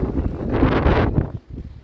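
Cold, gusty wind on a Barcelona mountaintop by the Sagrado Corazón temple buffets the microphone in a low rumbling rush that swells and then suddenly drops off.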